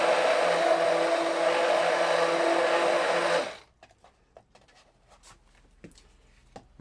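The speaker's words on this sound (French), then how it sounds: "Voilà, un petit coup de mixeur." A blender briefly mixes pottery glaze in a hard porcelain jar holding about sixty small alumina balls. It gives a loud, steady whirring roar for a few seconds, then stops, leaving quiet scattered clicks and handling noises.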